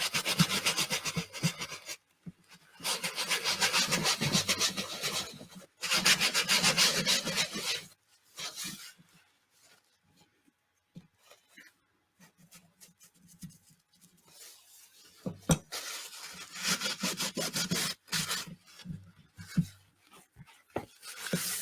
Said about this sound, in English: I sort of tend to do it circular type motion, I guess, when I rub